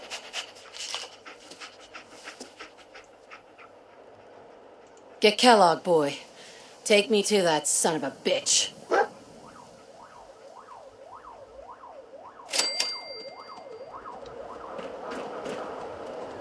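Dogmeat, the dog in Fallout 4, pants and barks in short bursts over a rising and falling siren, with someone talking to the dog.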